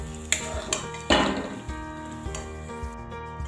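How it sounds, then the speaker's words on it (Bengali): A utensil stirs chickpea lentil paste in hot oil in a pan, with a few sharp knocks and scrapes against the metal over a faint, soft sizzle, close up and without talk. "এটাকে আবার তেলের সাথে মিশিয়ে দেবো, দিয়ে কিছুক্ষণ নেড়ে নেব, যাতে জলটা একটু শুকিয়ে যায়"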